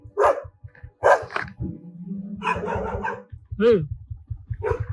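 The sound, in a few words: dog barking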